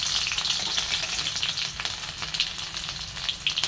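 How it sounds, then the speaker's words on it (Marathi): Mustard seeds and garlic sizzling in hot oil at the start of a dill-leaf vegetable dish, a dense, close, continuous crackle and hiss with no voices. "बघा इथे थोडीशी मोहरी टाकून घेते हे थोडासा लसूण"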